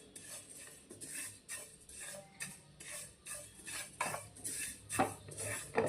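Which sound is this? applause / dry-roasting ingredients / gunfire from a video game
dry-roasting ingredients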